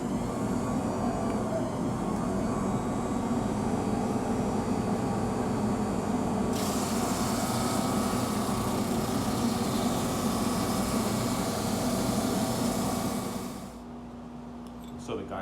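A dust collector runs in a woodworking shop fitted with a Shop Fox W1812 moulding machine, making a steady, loud roaring drone that cuts off abruptly near the end, leaving a quieter hum.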